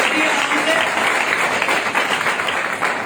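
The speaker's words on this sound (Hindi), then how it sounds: "इनके लिए एक जोरदार ताली होना चाहिए" Audience applause at a training session led by Mahaguru Kirit Sir, a loud, sustained, dense clapping from a room full of people, steady throughout the short burst.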